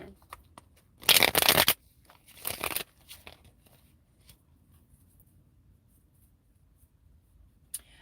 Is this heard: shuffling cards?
yes